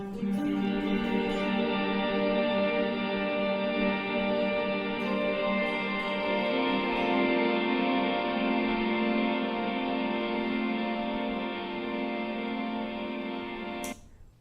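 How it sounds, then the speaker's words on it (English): Sustained guitar chords through a Strymon blueSky reverb pedal set to maximum decay swell into a vast, washy reverb, tones blooming and lingering in a long ambient tail before stopping abruptly. "the pre-delay with maximum decay can also create a very large, ambient sound"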